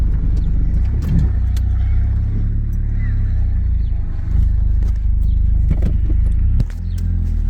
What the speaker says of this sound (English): if you hear stuff rumbling around in here